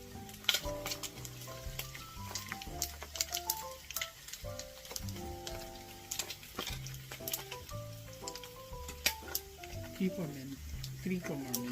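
Chicharron frying in oil until crispy, a close busy sizzle with crackling pops, while music plays alongside.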